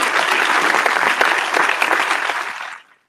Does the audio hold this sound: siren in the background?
no